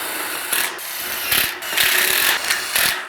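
Screws driven through the plate into studs while framing a wall, with several loud bursts of power-driver whir and wood grinding separated by brief pauses, close and with no talk.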